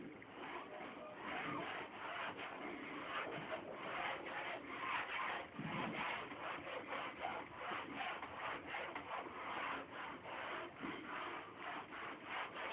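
Board eraser rubbing across a classroom writing board, a steady scratchy swishing in continuous back-and-forth strokes, close and moderately loud, with no talking.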